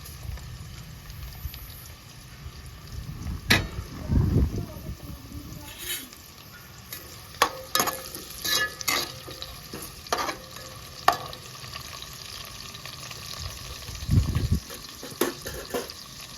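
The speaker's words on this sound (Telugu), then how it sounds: "ఇప్పుడు ఆయిల్ వేడైంది. ఉల్లిగడ్డ పచ్చిమిర్చి వేసుకుంటుండే." Onions and green chillies hit hot oil in a pan and sizzle steadily while a spoon stirs and scrapes now and then, with a few clanks and short bursts of louder frying.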